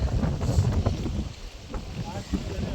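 Wind sweeps across the Thenmala Dam reservoir, a steady low rumble and buffeting against the microphone that rises and falls in gusts throughout, with faint voices mixed in.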